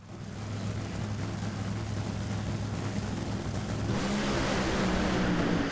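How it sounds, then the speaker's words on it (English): Drag race cars at an NHRA-style event roar down the strip, a loud, sustained engine din that swells in the final seconds. "What a drag race."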